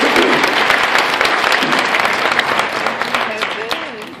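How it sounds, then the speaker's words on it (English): Dense, loud applause from an audience at a company promotion recognition event, steady at first and slowly thinning toward the end, with a voice briefly audible over it near the close. "Let's give another round of applause."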